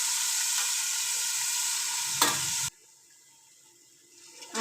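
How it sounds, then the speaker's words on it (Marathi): Tomato paste fries in a hot pan with a steady, bright sizzle for a few seconds, then cuts off abruptly into near quiet, with faint clinks at the end. "आता हे आपण टोमॅटो पेस्ट टाकायचं. आता ते आपण भाजून घ्यायचं."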